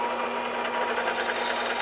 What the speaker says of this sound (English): So I'll start drilling this through, 5/16 drill bit to start